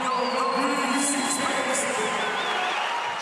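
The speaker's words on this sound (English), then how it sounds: "the crowd really getting behind him now" A large crowd cheers and whoops for strongman Eddie Hall at the 2016 World Deadlift Championship, a sustained roar of voices with scattered high shouts and whistles running the whole time.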